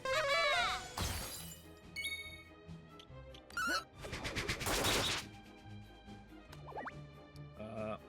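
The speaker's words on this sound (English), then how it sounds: "Oh boy, fire breath." A fire breath attack in a Dragon Quest VII battle: a loud whooshing, crackling burst in the middle, set among short chiming and impact game effects over steady background music.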